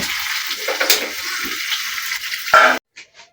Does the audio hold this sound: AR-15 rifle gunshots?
no